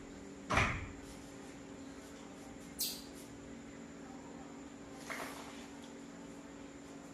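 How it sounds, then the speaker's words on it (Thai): A door being shut indoors, heard as a sharp clack followed by two fainter knocks spaced a couple of seconds apart over a quiet, steady background hum. "ปิดประตูก็ได้"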